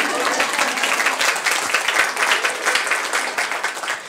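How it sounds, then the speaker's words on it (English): Loud, dense applause from a library budget address audience, steady and continuous throughout with no lull, many hands clapping together at close range. "please give her a round of applause"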